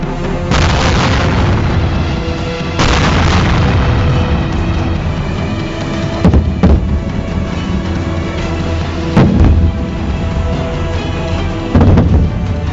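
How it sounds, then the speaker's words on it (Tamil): Artillery and BM-21 rocket launcher fire along a border conflict zone: several heavy booming blasts with rumbling tails, loud and repeated at irregular intervals, some sharper bursts between. "BM-21 ராக்கெட் லான்ச்சர்கள், பீரங்கிகள் உள்ளிட்ட கனரக ஆயுதங்களை பயன்படுத்தி"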